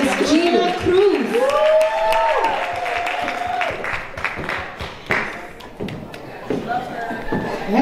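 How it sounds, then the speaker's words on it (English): Brunch audience at a best friends gathering claps and cheers, a steady spell of applause with scattered whoops, mixed with a talking voice near the start and chatter through it. "round of applause"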